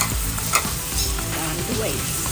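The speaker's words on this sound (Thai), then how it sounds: "ผัดหอมใหญ่ให้สุกสักครู่นะคะ" Onions stir-frying in a pan for a spicy Thai pork with fresh chili dish, a steady close sizzle with scraping stirs of the spatula throughout, no talking.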